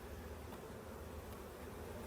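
Honeybees buzz around an open brood chamber during a summer hive inspection, a dense, continuous close-up hum that stays steady throughout with no voices.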